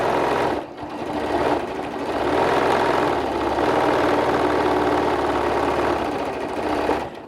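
A sewing machine stitches two pieces of fabric together for an ice cream cozy, running with a steady close-up whirring hum, briefly pausing at the start and end.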